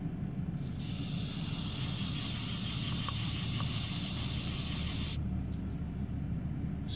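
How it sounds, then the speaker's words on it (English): A continuous aerosol spray of chain wax hisses for about four and a half seconds, starting and stopping abruptly over faint background rumble. "Spray some chain wax"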